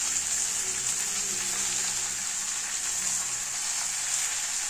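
Moringa leaves frying with onions in a pan, a soft, even, continuous sizzle heard close up with no talking.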